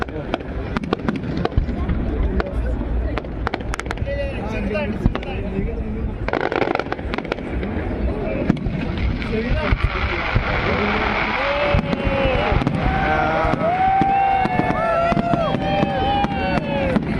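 A New Year fireworks display in Wellington bursts and crackles continuously with dense popping explosions, while a crowd cheers and people talk and shout underneath.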